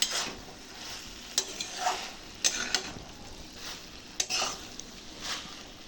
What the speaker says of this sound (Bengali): এখন সর্ষের সাথে ভেন্ডিটা নাড়িয়ে চাড়িয়ে নিচ্ছি অল্প একটু ভাজা ভাজা করে নেব